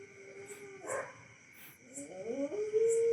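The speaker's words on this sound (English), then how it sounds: "I'm not really sure why these dogs are kind of like a barking." Dogs whimper and yip in a series of short, high whining cries that rise toward the end, fairly close and moderately loud.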